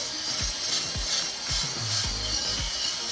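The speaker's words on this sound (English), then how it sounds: "we're going to use a nylon wheel that I got from Harbor Freight on a drill" A handheld drill whirs as a spinning nylon wheel grinds corrosion off metal, with repeated rising pitch sweeps as the tool is pressed and eased off; no talking.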